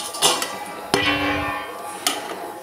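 A metal lid is set down on a cooking pot of village-style bottle gourd curry, giving a sharp clanking hit followed by a ringing metallic tone and then a second, lighter clink, heard alone and fairly close.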